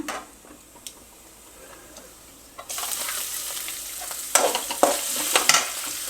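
Cumin seeds drop into hot oil for a paniyaram dish, starting with faint ticks before a bright sizzling crackle surges and keeps popping with sharper bursts, close and alone.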